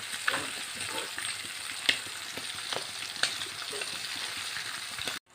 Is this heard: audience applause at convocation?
no